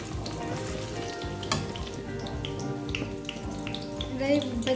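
Paneer pieces fry in oil, a steady close sizzle with scattered pops and light crackles, while faint background sounds and possible voice-like tones sit underneath.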